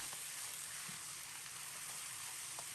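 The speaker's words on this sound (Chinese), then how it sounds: "放入鸡块，快速翻炒均匀" Chicken pieces tossed quickly in melted rock sugar and peanut oil in a hot wok, giving a steady, fairly quiet sizzle throughout with a few faint stirring scrapes.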